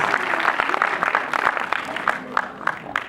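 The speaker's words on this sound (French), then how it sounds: "Je crois qu'on peut l'applaudir très très fort, s'il vous plaît" Audience at a French magic show claps steadily, a dense, continuous patter of many hands that holds at an even level for a few seconds.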